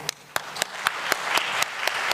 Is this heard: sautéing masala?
no